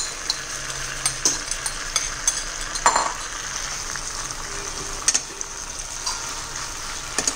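Noodles get tossed in a frying pan with two spoons, giving a low sizzle under soft repeated scraping and clicking of the spoons against the pan, with a few sharper knocks.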